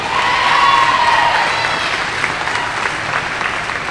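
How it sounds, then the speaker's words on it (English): A gymnasium crowd at a college women's volleyball senior night applauds loudly for the graduating players. The dense clapping peaks early, then tapers slightly while staying strong, with a few faint cheers mixed in. "give these ladies one more round of applause for their leadership and spectacular play over the last 4 years"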